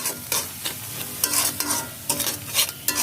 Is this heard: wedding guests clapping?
no